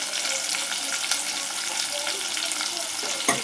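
Chopped tomato and green chili sizzle steadily in a hot pan, a dense, close frying hiss with a soft knock of stirring near the end.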